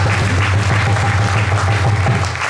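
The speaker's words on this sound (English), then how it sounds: "So a big, big round of applause to that entire" Members gathered at an ISKCON temple anniversary celebration applaud hard-working families, a short burst of steady clapping over a strong low hum in the hall.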